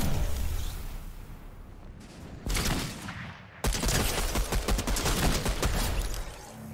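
Gunfire in a Fortnite match builds into a dense volley of rapid shots. The first burst is short, and a longer, louder run of closely spaced cracks follows.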